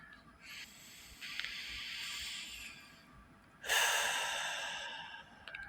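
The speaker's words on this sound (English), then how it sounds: "let's take a couple breaths here together again" Slow, deep breaths during a guided meditation: a long, soft airy inhale that gradually fades, then a louder, fuller breath starting midway and tapering off, close and quiet, with no talking.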